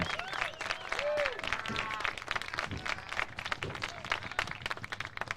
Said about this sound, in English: Fans, let's have one more round of applause for number 1, Matt Semsesson.